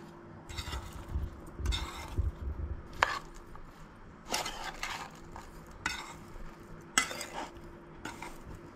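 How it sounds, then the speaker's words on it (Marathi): Masala gets stirred into Goan mango pickle, with irregular bursts of scraping and clinking from a utensil against the container, several distinct strokes spaced a second or so apart in a quiet room. "सगळें बरें मिक्स करून घेवंक जाय"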